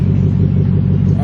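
A Ford Mustang GT 5.0 V8 engine gives a steady, deep, close growl with a rhythmic low pulse throughout.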